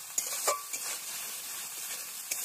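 Spices sizzling and frying in oil in a pan for an eel fish curry, a steady close hiss with a few sharp stirring clicks and scrapes, no voices.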